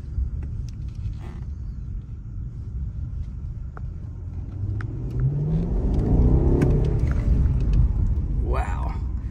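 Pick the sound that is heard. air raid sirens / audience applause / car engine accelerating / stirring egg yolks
car engine accelerating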